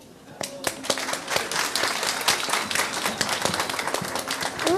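An audience applauds a pair of folk singers about to perform street songs at a local women's stage show. The clapping is dense and fairly close, with voices mixed in, and it builds slightly toward the end.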